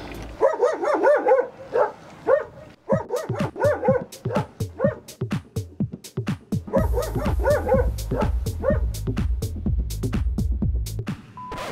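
Dog barking repeatedly at a passing e-bike cyclist on a touring route, loud and close with rapid yapping bursts and some whimpering, then continuing over steady rolling road noise.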